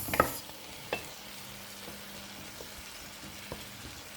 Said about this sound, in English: it's no longer saying shh too much because now the juice from the cabbage is coming out